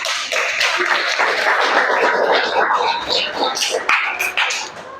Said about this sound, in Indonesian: berikan aplaus untuk kelompok Rizky